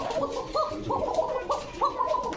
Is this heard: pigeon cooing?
yes